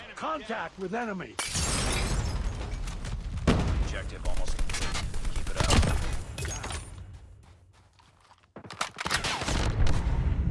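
ASM10 assault rifle firing in two-round bursts in the game CoD: Mobile, loud sharp volleys with game effects and someone talking over them, then a pause and more shots.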